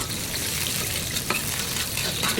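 Onions fry in a hot pan while being stirred, a steady close sizzle with scraping and spatter pops, no voices over it.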